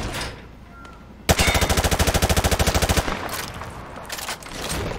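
Sustained automatic gunfire in Modern Warfare 2 Remastered fires a rapid, evenly spaced burst of loud close shots into light cover at a military base range, followed by quieter scattered shots and ambient noise.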